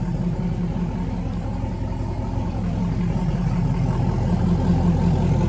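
A Chevrolet C8 Corvette with a Corsa track edition exhaust idles at a steady, deep, loud rumble that holds without revving and grows slightly louder in the latter half.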